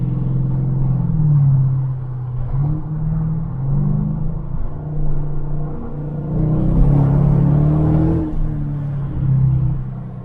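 A Mercedes-Benz E500 Coupe's 5.5-litre V8 roars steadily with low rumbling tones and slight crackles, rising and falling as it revs and accelerates while drifting, loud and close throughout.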